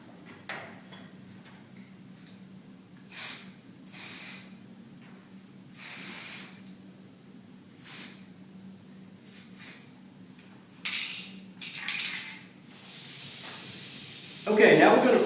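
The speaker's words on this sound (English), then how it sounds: "Now we're going to go over the metal areas with the self-etch primer." A spray gun applies self-etch primer to metal in a series of short, hissing bursts with pauses between them, close and moderately loud, over a faint background hum.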